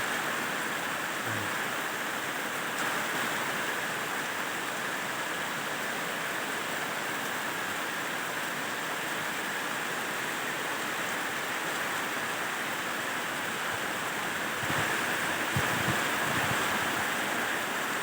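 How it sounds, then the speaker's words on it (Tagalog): Heavy rain pours down in a constant, dense hiss, loud and unbroken, with a few faint knocks near the end. "Oh, ang lakas ng ulan."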